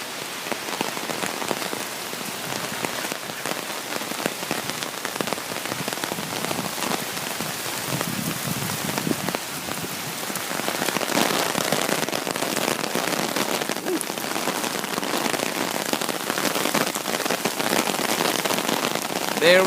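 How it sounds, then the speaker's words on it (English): Heavy rain pours during a New York City thunderstorm, a dense, steady hiss of drops pattering on nearby surfaces with scattered sharper ticks, growing slightly heavier toward the end. "There we have it, a severe, well, heavy thunderstorm."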